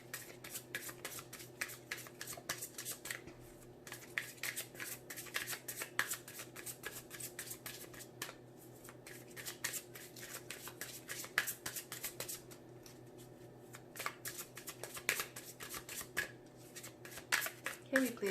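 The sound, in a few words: shuffling tarot cards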